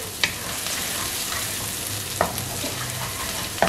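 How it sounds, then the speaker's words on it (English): Egg noodles stir-fried on a high flame, with a steady loud sizzle and a few sharp scrapes of a utensil against the pan. "I am going to stir it for about 15 seconds, okay, on high flame, right?"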